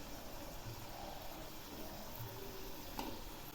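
Cauliflower pakoras fry in hot oil, a constant low bubbling sizzle with a faint scrape or two, even in level and without talk.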